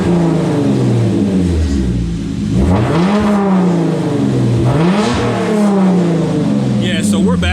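A warmed-up car engine, the one known as the Batmobile, revs hard inside a garage, loud and close, with two rising sweeps of rpm around three and five seconds between steady idling roar.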